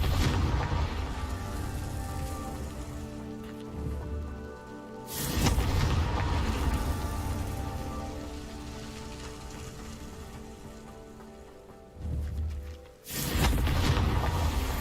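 Confringo blast spell in the video game Hogwarts Legacy: a rumbling, roaring wash of noise with two sudden loud bursts of explosive impact, one in the middle and one near the end.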